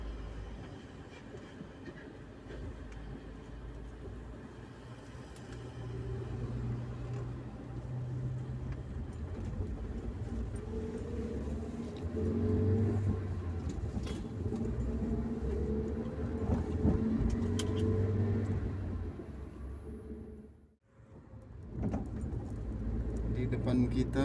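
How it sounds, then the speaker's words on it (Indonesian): Heavy night traffic full of large vehicles rumbles steadily on a dark road, a low continuous drone of engines and tires with passing swells, heard from inside a vehicle while a person talks over it. "Di depan kita padat sekali teman-teman, banyak kendaraan besar."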